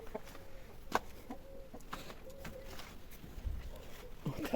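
Chickens clucking softly nearby, scattered short clucks over a quiet background with a few faint shuffling sounds.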